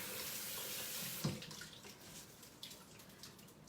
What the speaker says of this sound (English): Just rinsing it here in the water.